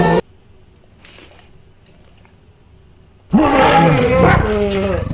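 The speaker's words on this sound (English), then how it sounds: "Here's some dinosaur sound." A toy dinosaur from a fake LEGO set roars loudly and harshly for about two seconds after a short stretch of quiet, the electronic growl bending in pitch near the microphone.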